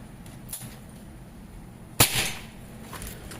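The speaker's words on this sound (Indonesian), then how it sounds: "Tembakan kedua" A single sharp shot from a Predator Python folding PCP air rifle with a 40 cm build, fired at about 1040 fps, cracks out loud and close over quiet background hiss and fades quickly.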